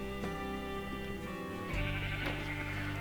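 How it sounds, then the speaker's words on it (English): Sheep bleating in a Minecraft-style video game, several loud bleats over a steady droning background tone, the calls louder in the second half. "I did go ahead and move our sheep over here"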